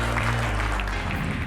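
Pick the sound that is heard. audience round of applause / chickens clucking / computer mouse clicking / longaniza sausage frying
audience round of applause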